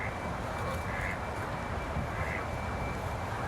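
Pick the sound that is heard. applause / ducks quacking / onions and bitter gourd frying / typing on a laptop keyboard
ducks quacking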